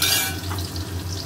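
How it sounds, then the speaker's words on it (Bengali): Chopped onions fry in a pan with a continuous close sizzle, stirred now and then, and the crackle stays steady and loud throughout with no voices. "পেঁয়াজটা এখন ভালো করে ভাজবো"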